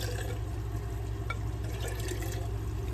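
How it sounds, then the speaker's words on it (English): One cup of water pours into a glass jar, a soft, steady, low-level trickle over a constant background hum. "1 cup of water, 1 of those cups, no more, no less, 1 cup goes in your jar"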